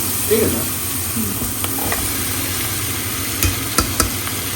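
Shrimp fry in a pan with onion, a continuous moderate sizzle with a few sharp clinks and stirring knocks, over a low steady background hum.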